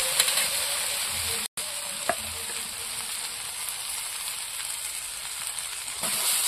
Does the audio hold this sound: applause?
no